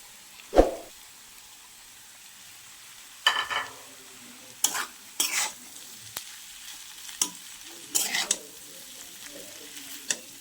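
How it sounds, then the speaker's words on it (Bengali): Noodles with vegetables and a fried egg tossed in a pan, a faint low sizzle broken by several sharp spatula scrapes and clatters at irregular intervals, no talk. "এখন আমি নুডলসটা দিয়ে দিচ্ছি আর দিয়ে দিচ্ছি ভেজে রাখা ডিমটা"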